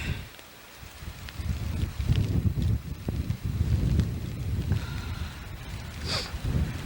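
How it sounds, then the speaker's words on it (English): Gusty wind blowing snow, roaring and buffeting against the microphone in surges that rise and fall, loud and close, with no voices. "Getting gusty. Whoa. Very gusty."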